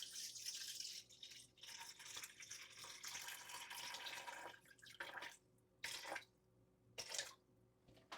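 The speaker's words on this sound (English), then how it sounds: "I'm going to pour 700 grams of 80-degree water into the bowl" Water at about 80 degrees pours from a tap into a mixing bowl for sourdough dough, a steady hissing stream broken into short gushes and pauses near the end.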